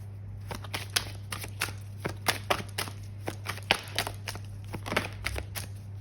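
Oracle cards are shuffled in a steady run of soft papery riffles and slaps, close and moderately quiet over a low background hum, with no voice.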